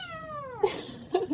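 A house cat lets out two meows close up: a drawn-out, sliding call, then after a pause a shorter, sharper second one, clear against a quiet room.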